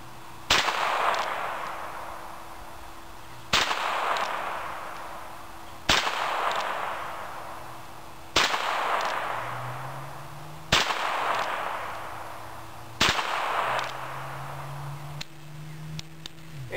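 Six sharp, loud pistol shots from a Ruger Bearcat plinking revolver, fired at a quick, even pace about two to three seconds apart, each with a short decaying echo outdoors.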